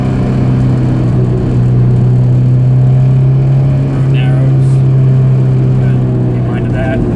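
Honda S2000 on a tight, technical winding road, its engine giving a steady loud drone with a strong low hum throughout, the note shifting only slightly as it holds speed.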